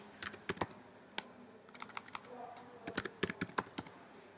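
Quick bursts of typing on a computer keyboard while searching Gmail, clicking keystrokes coming close and crisp in several short clusters separated by brief pauses, with no voices.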